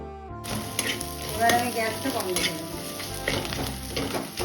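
Prawns already fried with salt and turmeric are stirred in a frying pan for a Bengali prawn kofta curry. The oil sizzles up close, broken by scraping and clattering stirs.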